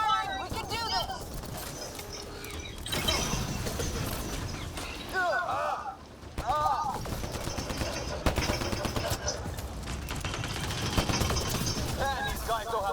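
Rapid gunfire from a Mass Effect Andromeda battle, sustained bursts and shots layered with combat effects and in-game character voices shouting over the fight throughout.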